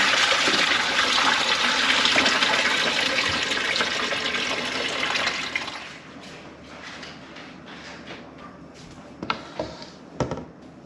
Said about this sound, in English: I'm gonna pull some of the water off and get it out.